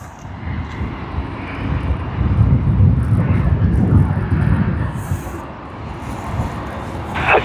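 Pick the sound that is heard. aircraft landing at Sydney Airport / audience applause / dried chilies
aircraft landing at Sydney Airport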